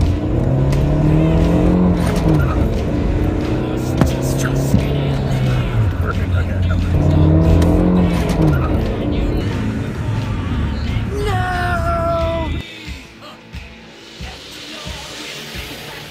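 Racing cars rev and accelerate loudly, with rising and falling engine whines passing close by, a brief tire squeal near the end, then the engines drop away to quieter noise as voices speak over the action.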